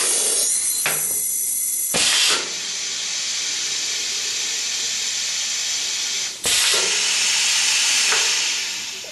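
A Geyer Fillmaster 5000 single-cylinder filler hisses loudly and steadily as it fills with nitrogen, with sharp bursts of released gas at the start and again partway through, and no talking.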